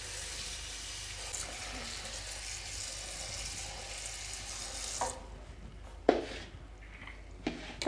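Water poured into a pot to wash fenugreek leaves, a soft continuous splashing wash for about five seconds, then quieter handling with a few sharp splashes and knocks near the end.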